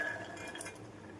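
Chickpeas tip into a small metal pressure cooker with a short, close clatter and clink of hard kernels against metal, lasting barely over a second.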